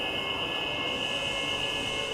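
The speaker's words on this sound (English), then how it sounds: "The fire and emergency alarm at the Waterloo facility sounds like this." Fire and emergency alarm at the Waterloo facility: a steady, unbroken high electronic tone sounding continuously over a dense background of noise, with no talking.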